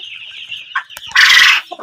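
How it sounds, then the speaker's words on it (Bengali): Poultry hen kept for eggs, about 3.5 months old, giving a few close clucks followed by a louder, longer squawking call. "আর এখানে যে পোলট্রি মুরগিটা দেখছেন, এটা হচ্ছে আমি ডিমের জন্য পালছিলাম।"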